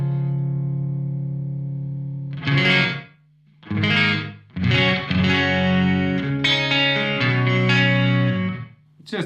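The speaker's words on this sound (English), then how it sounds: "I will show you the room reverb I have." Electric instrument played through a mild room reverb effect, sustained notes and chords with short gaps of near silence between phrases, close and fairly loud, with a faint tail ringing after each phrase.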